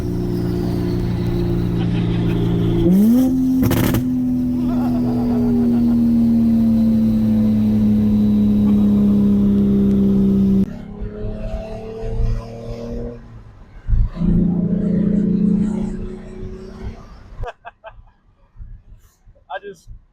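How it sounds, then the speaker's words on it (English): A 1997 Mitsubishi 3000GT with a naturally aspirated V6 idles and revs up, holding a steady drone before dropping off, with a person talking over it. "this is a 97 3000 GT, naturally aspirated V6"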